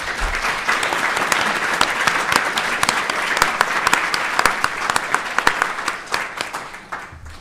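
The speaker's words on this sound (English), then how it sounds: "quick round of applause for our panel," Loud, close audience applause for a conference panel, a thick sustained roar of many clapping hands with crisp individual claps, easing slightly near the end.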